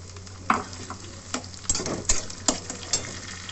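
Chopped tomatoes dropped into a hot pan for murg polao, a quiet sizzle with intermittent clinks and scrapes of stirring at irregular intervals.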